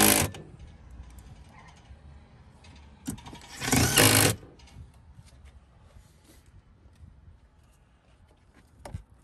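Bolts being tightened on a Chevrolet Silverado while color-matched two-tone door handles are installed: a short ratcheting burst near the start, a louder mechanical whirring burst midway, then a brief click near the end, with quiet gaps between.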